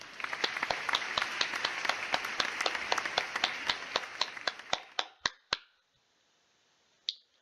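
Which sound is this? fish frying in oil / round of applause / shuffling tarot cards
round of applause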